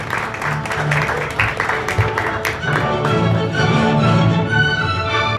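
Audience applause at a municipal art exhibition in Tejupilco, a steady wash of many hands clapping for several seconds, fairly loud, with faint voices mixed in.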